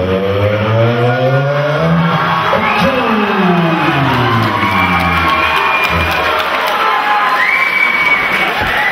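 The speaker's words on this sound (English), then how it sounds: "Let's hear it for Callum." A loud crowd at a cage fighting event cheers and roars continuously, with whistles and shouts rising over the noise, dense and sustained throughout.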